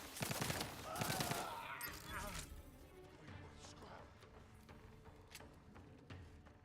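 Rapid pistol shots from a first-person shooter game crackle in a dense, loud burst for the first couple of seconds, then give way to quieter scattered game noise with voices underneath.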